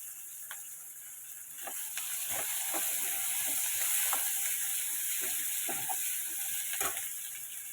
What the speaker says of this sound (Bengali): হালকা বাদামি করে ওটা আগে একটু ভেজে নেবো আমি